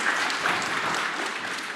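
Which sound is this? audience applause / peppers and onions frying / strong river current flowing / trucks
audience applause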